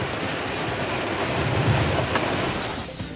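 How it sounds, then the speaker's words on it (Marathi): Heavy unseasonal rain pours across farmland in a steady, dense hiss that fills the whole clip, with a faint rumble, but no clear thunderclap and no voices. "त्यात पुन्हा एकदा पावसानं आज जोरदार हजेरी लावली।"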